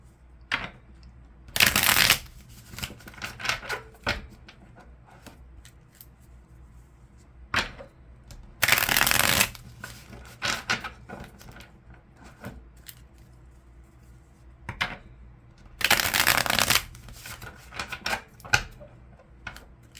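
A deck of tarot cards shuffled in three separate bursts of fast riffling, with soft handling clicks and taps between them, close and clear and with no talking.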